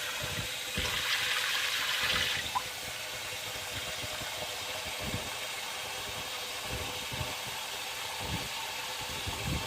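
Steady running water with a low rumbling wash throughout as grated potatoes are rinsed in a basin, loud and continuous with no talking.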